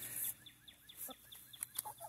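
Hens clucking around a homemade DIY feeder, a run of soft, quick clucks and chirpy calls at close range, fairly quiet over faint outdoor background.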